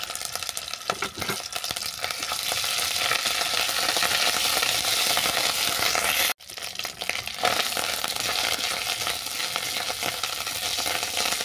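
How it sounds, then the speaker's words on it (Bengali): Ginger paste sizzles and fries in hot oil already seasoned with bay leaf and dried red chilli, cooking a Bengali katla fish curry, with a steady close crackle and stirring that continue with one brief break. "ফোড়ন ভাজা হয়ে যাওয়ার পর দিয়ে দিচ্ছি আদা বাটা"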